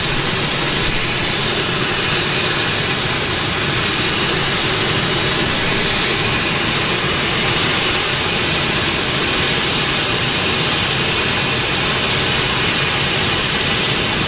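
A PT6 turboprop engine on a floatplane runs with a loud, steady roar and high whine, continuous and close, with no voices.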